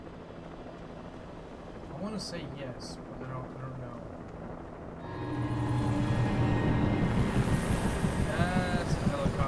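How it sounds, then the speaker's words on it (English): Helicopter in the video game Alan Wake, a loud rotor drone that builds from about five seconds and holds steady to the end, mixed with wind and with someone talking over the first part. "That's a helicopter."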